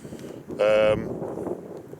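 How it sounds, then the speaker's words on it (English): Strong wind gusts across an outdoor hilltop, a steady low rumble buffeting the microphone, with a brief brighter tonal burst near the middle and no speech. "The wind's quite strong, but it's coming that way away from the mic"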